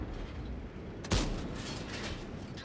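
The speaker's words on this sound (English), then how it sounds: "I'm gonna try to shoot across here." A single heavy tank cannon shot booms in World of Tanks, one sharp blast partway through against a steady rumbling battle background.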